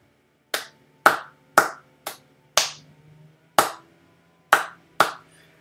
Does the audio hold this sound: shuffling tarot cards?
no